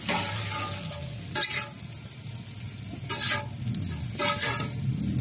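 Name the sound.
stirring egg with baby prawns in a hot pan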